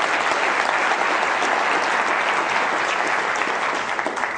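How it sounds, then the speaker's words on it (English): Sustained audience applause from a large crowd at a live stage show by a magician and mind reader, loud, dense and steady throughout with no talk over it. "give them a round of applause as they come up"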